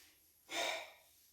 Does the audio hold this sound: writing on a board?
no